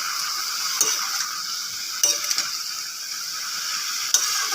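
Turmeric, cumin powder and a little dried chili sizzle steadily in a pan while being stirred, with a continuous hiss and occasional sharp scrapes of the spatula against the metal, and no talking.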